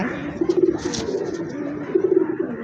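A female pigeon from a breeding pair coos nearby in two soft, rolling bursts, with a faint rustle between them.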